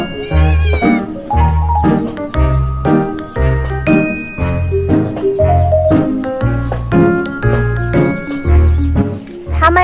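A cat meows repeatedly over rhythmic musical accompaniment with tinkling, jingly tones, the cries steady and fairly loud throughout, near a pan of frying eggs.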